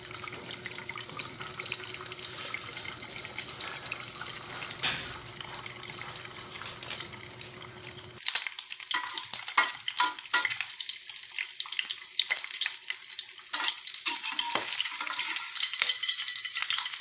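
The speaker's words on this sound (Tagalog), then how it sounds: "Yan guys, magpiprito na po tayo ng itlog." Eggs fry in a pan for Filipino home cooking, a steady close hiss of sizzling oil that gives way to sparser crackles and wet clatter near the end.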